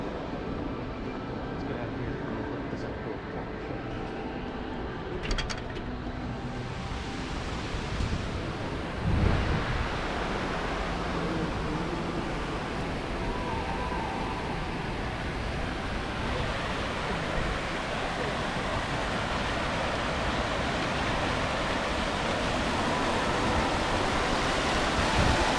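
Fountains splashing at an outdoor shopping mall, a dense continuous rush of falling water with a brief louder burst partway through.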